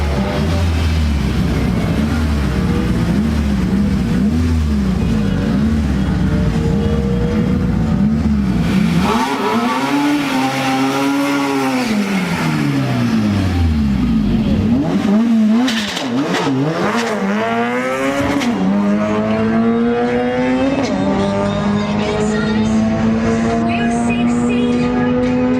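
A drag racing car makes a pass at the IDRC 2019 import drag event, its engine roaring loud and close as it revs, rises in pitch through several gear changes and keeps screaming for the length of the run.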